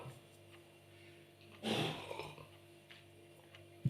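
A single short, sharp sneeze bursts out against a quiet room, close by, followed by near silence.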